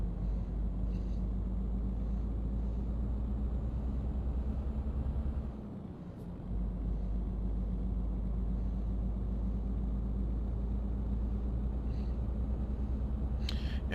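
Heavy truck hauling a 21-ton load in Euro Truck Simulator 2, its engine a steady low drone and rumble, straining continuously with a brief dip midway.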